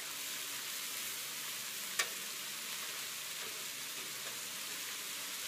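Bacon sizzles steadily on a 36 inch griddle, a constant dense crackle throughout with one sharp tick partway through, no voices.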